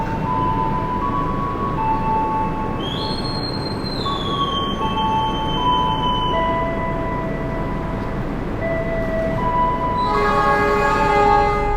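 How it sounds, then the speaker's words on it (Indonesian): A Gunungjati passenger train pulls out of Haurgelis station in Indonesia with a constant heavy rumble of rolling wheels, long sustained metallic squeals and whines of wheels on rail, and a rising, louder grind near the end. "sekarang kita berangkat dari stasiun Haurgelis"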